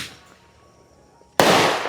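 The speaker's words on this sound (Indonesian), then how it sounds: "Ini sudah disatuin, diikat-ikat ya, nanti sekali bakar langsung meledak keluar semua." A bundled string of firecrackers is lit all at once on a Lunar New Year night, erupting after a near-silent pause into a sudden, loud, dense crackling barrage that keeps going to the end.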